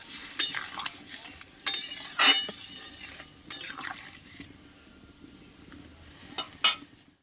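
Small fish and taro curry simmering in a pan just after water is added, with intermittent scraping stirs and clinks of a metal spoon against the pan over a soft bubbling background, close up and without speech.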